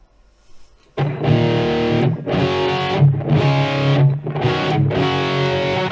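A heavily overdriven electric guitar played through a BOSS eBand with amp gain set high and no EQ, ringing out a series of sustained, saturated chords with brief gaps between them after a quiet start.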